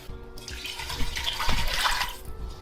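Water poured into a cooking pot of jollof rice ingredients in a kitchen, a steady close splashing pour lasting a couple of seconds with no talk.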